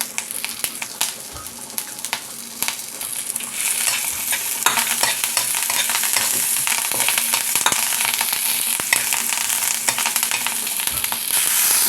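A tempering of sesame seeds and curry leaves fries in hot oil, with a loud, crackling sizzle and frequent metallic stirring clinks and scrapes close by.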